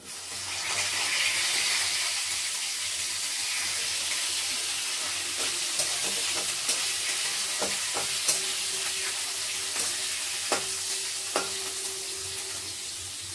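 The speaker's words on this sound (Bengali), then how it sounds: "এরপর আমি বেগুন দিয়ে দিচ্ছি।" Eggplant pieces sizzle in a hot oiled pan while being stirred for a spinach chorchori, giving a steady loud frying hiss with occasional sharp clicks of the spatula against the pan.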